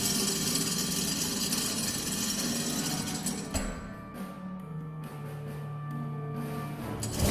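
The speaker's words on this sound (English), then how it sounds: "Let's see if the crank handle still works." A crank handle is turned in the video game Lost Horizon, giving a steady, loud mechanical grinding and rattling for several seconds that eases off midway, then resumes more quietly with a few clanks.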